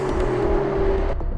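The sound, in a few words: Lamborghini Aventador V12 car on race track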